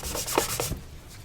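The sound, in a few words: rubbing shoe with a nylon stocking to shine it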